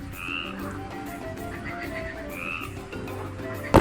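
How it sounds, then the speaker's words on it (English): A frog croaks twice, a couple of seconds apart, over a steady background of music, with a sudden clatter at the very end. "It's a frog."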